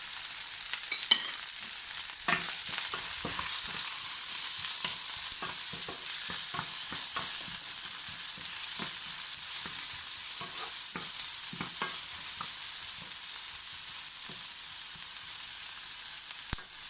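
Prawns frying in sesame oil, a steady loud hiss and sizzle running throughout with frequent small pops and spoon clicks, close up and without talking.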